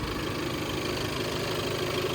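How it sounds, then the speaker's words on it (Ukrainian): Skoda Octavia A7 2016 with a 2.0 TDI 135 kW 4x4 diesel engine idling steadily, a continuous even rumble heard up close with no talking. "Двигун працює рівно"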